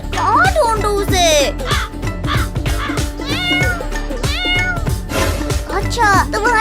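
A cartoon kitten gives repeated high, bending meows in quick bursts, loud and close, over bright cartoon music with a steady beat.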